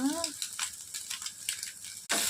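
Eggs fry in a pan while salt is added, a steady hiss with pulses from stirring, beneath a voice that speaks briefly at the start, ending in a brief gap and then a louder burst of sizzling.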